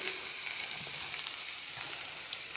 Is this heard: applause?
no